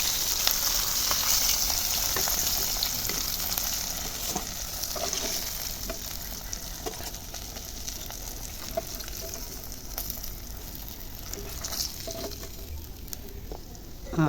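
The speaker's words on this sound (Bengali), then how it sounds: "এই দেখুন বন্ধুরা, আমার এই পাশটাও একেবারে লাল লাল করে ভাজা হয়ে গেছে" Hilsa fish sizzle and crackle steadily in hot oil, with green chilies frying alongside; a constant, close, fairly loud hiss with scattered pops and no voices.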